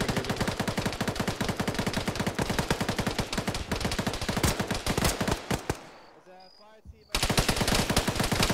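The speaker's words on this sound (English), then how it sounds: "I heard gunfire" Sustained rapid machine-gun fire rattles loud and dense in a military shooter video game, breaking off briefly near the end before another burst resumes.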